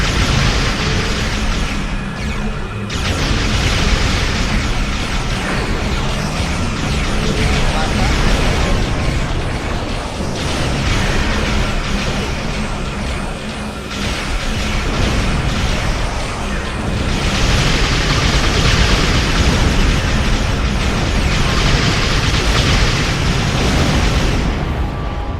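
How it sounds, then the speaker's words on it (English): Starship explosions under weapons fire in the Star Trek Online space combat game, a dense, loud, continuous roar of booming blasts and bursts swelling and fading over about twenty-five seconds. "Ships always have a much larger explosion."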